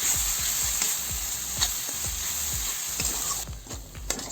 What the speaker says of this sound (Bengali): এই যে মশলাটা কষানো হয়ে গেছে